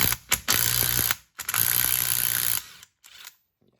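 A ratchet fitted with a 3/16 inch hex head socket turning bolts on a corroded Cat pressure washer pump from a Ridgid unit, cranking in loud, close bursts of fast clicking with brief pauses between strokes.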